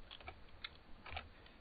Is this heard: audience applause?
no